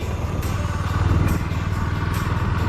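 A motorcycle engine drones steadily at close range while riding, a constant loud rumble with faint rattles and no voices.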